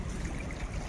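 Small mountain streams flow near the Ganges at Haridwar, giving a soft, steady rushing and trickling wash, fairly faint and continuous, with no voices.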